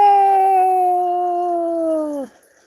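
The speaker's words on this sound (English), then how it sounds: "Do you want to howl? We could howl together." A dog gives a single loud, close howl that holds a steady, wavering tone for about two seconds before sliding downward and breaking off into quiet.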